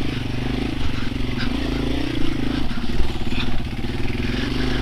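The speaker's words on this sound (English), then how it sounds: "Oh, I have a dirt bike, that's how I get through there." A dual-sport dirt bike works along tree-lined single track in Rampart Range, Colorado, its engine droning loud and close throughout with fluctuating revs and some clatter.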